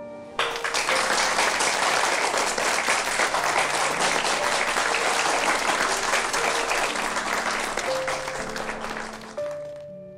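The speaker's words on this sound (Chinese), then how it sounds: "大家掌声欢迎" A crowd at a wedding ceremony breaks into sustained, even applause that lasts about ten seconds, with faint tonal music sounding softly underneath.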